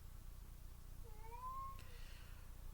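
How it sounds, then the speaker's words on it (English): A pet cat lets out a single drawn-out meow, rising and then falling in pitch, heard fairly close in an otherwise quiet room over a low steady hum. "my cat is being very annoying right now, constantly meowing"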